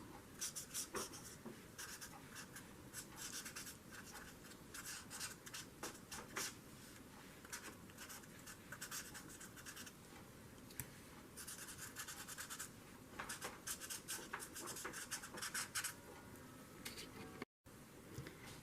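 Coloring by hand in a journal, with continuous close, quiet scratchy strokes of a pencil or marker in rapid irregular bursts on paper, alone without talk.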